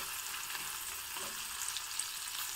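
Green peas frying in ghee give off a steady, faint hiss of sizzling that runs through the whole moment, with no voices over it.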